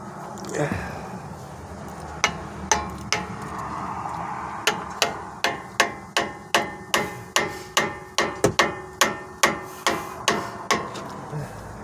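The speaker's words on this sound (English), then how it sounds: "take a hammer and pound it between the rotor and the pad" Hammer repeatedly strikes a flathead screwdriver wedged between the front brake rotor and pad of a 2018 Toyota 4Runner: about twenty sharp, close metallic blows, sparse at first, then a steady quick rhythm, with no talking.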